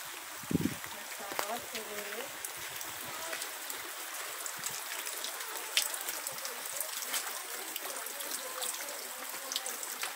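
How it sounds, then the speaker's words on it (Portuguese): Light rain falls steadily near a small house in the Sobral backcountry, a soft continuous patter and trickle throughout, with a brief low thump near the start and occasional voices in the background. "aqui tá passando a chuva, aqui."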